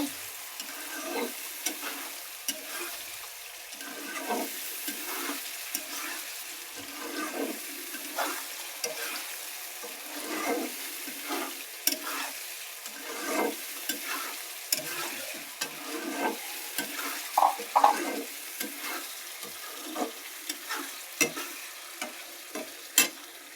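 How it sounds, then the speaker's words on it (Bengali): Chicken is stir-fried with biryani spices and yogurt in a pot, the steady sizzle broken by repeated stirring scrapes and clinks at a close, irregular rhythm, with no voices. "বিরিয়ানির মশলা দিলাম, টক দই দিলাম, দিয়ে ভালো করে কষিয়ে মাংসটা ভাজা ভাজা ভুনা ভুনা করে নেব।"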